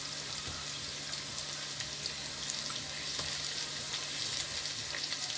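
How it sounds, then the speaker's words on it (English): Pieces of boerewors sausage fry in hot oil for a stew, giving a steady, bright sizzle with small crackles and pops that continue evenly from start to finish with no voices. "So now I want to add my sausage or my Boerewors. Just be careful when you add it so that the oil doesn't burn you."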